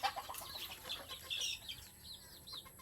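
A red junglefowl rooster crows faintly at a distance in a rural setting, with a few short clucks and chirps around it against a quiet background.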